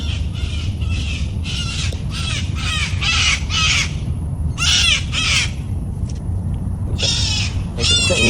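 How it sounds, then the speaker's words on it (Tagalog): Several crows caw noisily outdoors in repeated bursts, harsh calls overlapping at times, over a steady low background rumble before possible rain. "Ingay itong ibon."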